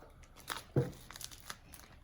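A plastic slime kit packet is torn open with a brief, faint crinkling rip and a few soft rustles up close.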